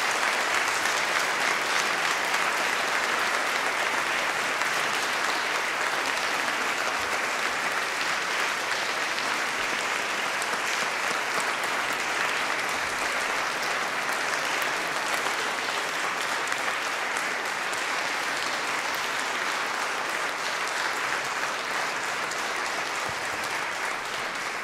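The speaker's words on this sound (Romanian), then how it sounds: "o să vă dăm doar o mână de aplauze" A church hall audience at a gathering of neo-Protestant brass bands in Arad claps steadily and densely, sustained applause filling the room for about twenty-five seconds without talk.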